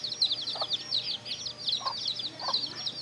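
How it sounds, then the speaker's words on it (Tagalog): Chickens cluck and chirp repeatedly at close range in a rural yard, a steady stream of high clucks broken by a few lower squawks. "may laga kaming manok"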